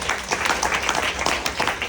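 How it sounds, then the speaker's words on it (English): A small audience claps for Nu Skin at a corporate gathering, a scattered, moderately loud patter of hands lasting a couple of seconds with no voices over it. "I think we should give Nu Skin a big round of applause"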